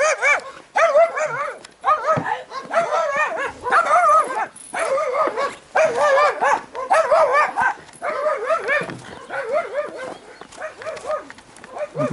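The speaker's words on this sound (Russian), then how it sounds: "Собачка." A small dog barks and yips repeatedly in quick, excited bursts during a walk through woods toward the Don River, loud and close, with brief whimpering notes between barks.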